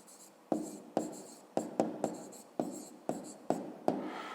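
A pen writes an answer by hand on paper, a series of about nine short scratchy strokes in an uneven rhythm, close and quiet with no talk.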